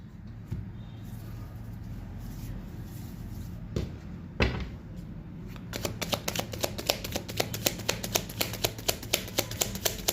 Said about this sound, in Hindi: चलिए टैरो से भी हम लेंगे यहाँ पे कुछ कार्ड्स।